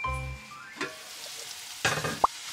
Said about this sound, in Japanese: 千切りにした人参とごぼうを炒めていきます